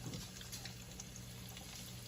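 Chicken pieces frying in hot oil, a quiet steady bubbling and fine crackle with a faint hum underneath, no voices.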